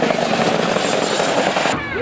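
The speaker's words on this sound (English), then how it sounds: "the final helicopter departs" A large helicopter departs at an air show, its rotor and engine roar loud and continuous, then dropping away slightly as it leaves, with a commentator talking over it.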